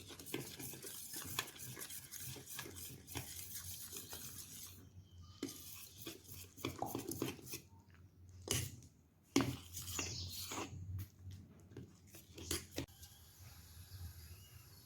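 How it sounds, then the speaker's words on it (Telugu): Flour batter being stirred with water for onion fryums, a spoon or whisk scraping and clinking against the bowl in irregular bursts, close and fairly quiet, with no talking. "ఇది ఉండలు లేకుండా కలిపేసి పెట్టుకోవాలి"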